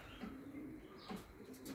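Pigeons in an open loft in Islahiye, Gaziantep coo softly in low, rolling calls, faint and a little distant, with a brief flutter of wings among them.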